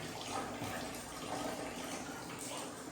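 Water runs steadily from a tap into a container early in the morning at home, a continuous soft rushing with no voices.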